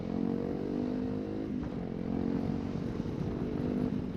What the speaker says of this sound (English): The exhaust is a little bit louder than I would prefer.